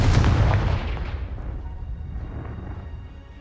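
A Confringo fire spell explodes in the Hogwarts Legacy video game as a single loud, close booming blast that rolls and decays over a few seconds, with no talking over it.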